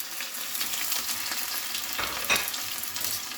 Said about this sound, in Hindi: इस सब को हम 1 मिनट के लिए फ्राई करेंगे।